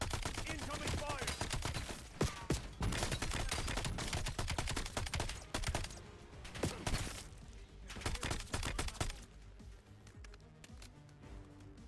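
Sustained gunfire in the video game Call of Duty: Black Ops 7, with dense bursts of shots and explosive cracks over a loud battle bed, punctuated by sharp impacts, with voices talking in places.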